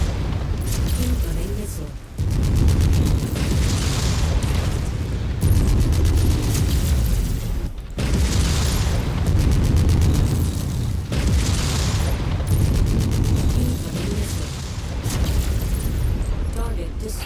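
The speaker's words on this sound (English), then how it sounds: "Incoming missile." Incoming missiles exploding in the video game MechWarrior 5: Mercenaries, a continuous roar of heavy booms and rumbling blasts that swells and breaks off every few seconds, loud and dense, with faint talk in places.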